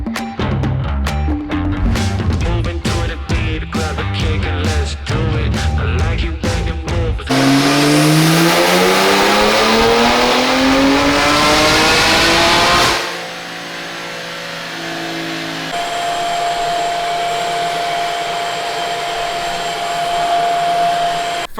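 A BMW S58 engine on a Dyno Jet dynamometer: rapid blips first, then one loud, rising full-throttle pull through the revs, cut off abruptly, followed by a lower steady idle and whine.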